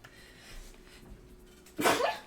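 A single sharp sneeze bursts out near the end after a few quiet seconds, close and loud, during a Pokémon card break stream.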